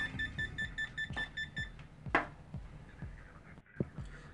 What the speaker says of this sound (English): it gives you an indicator that yes, there is a voltage alert It is live.